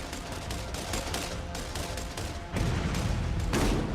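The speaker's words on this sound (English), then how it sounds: "That was a Merv grenade." Merv cluster grenade from a 2008 Borderlands prototype bursting into a rapid chain of loud, crackling explosions that roll on continuously, with a heavier burst near the end.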